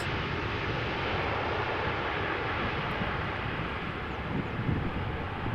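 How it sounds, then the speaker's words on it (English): A Boeing 777-200ER airliner arriving at Amsterdam Schiphol in crosswind conditions, heard as a steady, loud, broadband jet roar that holds constant throughout with a slight swell near the end. "So this airplane, the 777-200ER, 16 years old, first flight April 2007."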